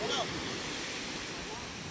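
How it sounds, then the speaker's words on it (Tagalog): Steady roar of fairly strong morning sea waves washing in on the shore, a broad continuous rush of surf that stays fairly constant throughout. "medyo may kalakasan na ating alon ngayong umaga"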